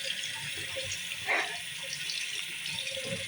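Water running from a bathroom tap fed through a saddle valve, a steady hissing flow with one brief louder gush, heard close against a constant background hum.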